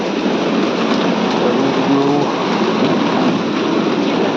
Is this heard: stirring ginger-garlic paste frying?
no